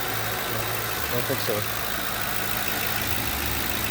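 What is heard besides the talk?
2009 Ford Crown Victoria Police Interceptor engine idling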